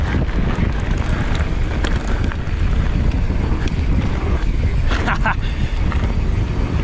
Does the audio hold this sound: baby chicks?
no